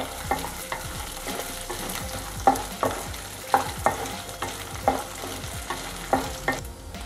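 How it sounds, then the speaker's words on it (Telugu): Dry red chillies, coriander seeds, urad dal and garlic dry-roasting in a pan, with a steady spoon scraping and regular stirring knocks over a soft continuous sizzle, close and unaccompanied by voices. "ఎండుమిర్చి, ధనియాలు, మనం తీసుకున్న గార్లిక్ వేసి ఒక 1 మినిట్ దీన్ని దూరగా వేయిద్దాం."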